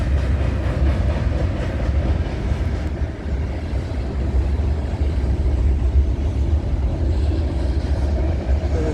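A train rolls past on the CN Halton Subdivision in Canada at night, a loud, continuous low rumble of wheels and cars with rhythmic rail clatter, steady and close throughout without a break.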